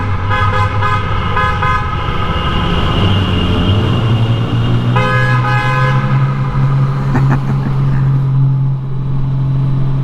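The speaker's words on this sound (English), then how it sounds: "The Goldwing does have an excellent horn." The horn of a Honda Goldwing motorcycle on tour sounds in several loud, bright honks, a short burst at first and then longer blasts, over a steady engine and road drone.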